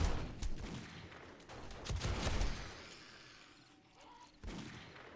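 Repeated Desert Eagle pistol shots fired at a zombie horde during horde night in the game 7 Days to Die, a dense run of loud bangs and booms with a quieter stretch before a final shot.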